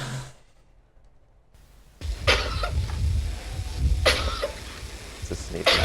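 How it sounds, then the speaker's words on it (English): Goat sneezing, a short faint snort early on, followed by several people talking and reacting loudly. "It's a goat sneezing"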